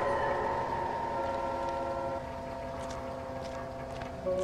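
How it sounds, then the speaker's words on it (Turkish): A train approaching in the video game L.A. Noire, a steady mechanical rumble with sustained horn-like tones that drop slightly partway through, heard alone. "Gerçekten tren mi geliyor lan?"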